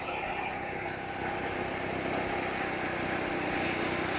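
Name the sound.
lawn mower running with wet belt slipping on pulley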